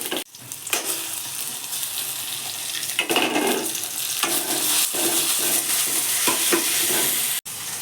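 Beans frying in oil with cumin in a home kitchen, a continuous loud sizzle with repeated scraping and rattling as a spoon stirs the pan, steady for several seconds with a brief sharp knock near the end.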